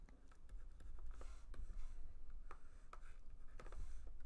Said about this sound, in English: I'm going to erase and just shave the lines down as I draw.